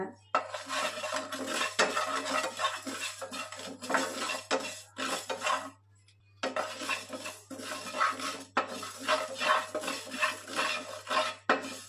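Fenugreek seeds, then cumin, roasting in a hot pan for ivy gourd chutney, with steady stirring and scraping in two long bursts separated by a short pause.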